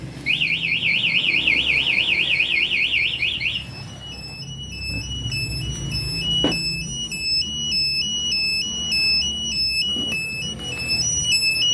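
A Kawasaki Ninja 250 FI motorcycle's smart key alarm, triggered by a forced start: a loud warbling electronic alarm, then a repeating high beeping pattern that continues steadily under faint background noise.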